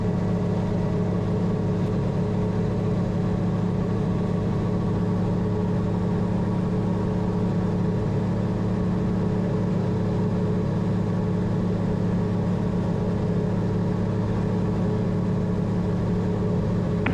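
A gyroplane engine drones steadily during the climb, a loud, sustained mid-pitched hum with wind noise, close and unbroken, with no one talking.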